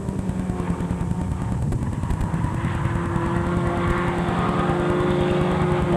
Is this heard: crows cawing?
no